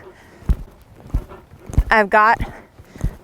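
Hoofbeats of a ridden horse circling an arena, several soft, evenly spaced thuds, with a nearby voice speaking over the middle.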